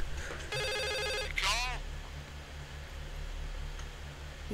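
A telephone rings in the video game The Suicide of Rachel Foster, one clear electronic trill sounding over a low steady hum, followed by a brief rustling and then quiet room tone.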